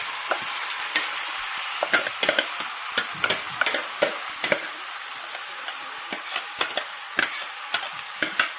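Chopped ivy gourd and carrot sizzling in a hot pan for thoran, a constant bright hiss punctuated by frequent sharp clicks and scrapes of stirring, with no one talking.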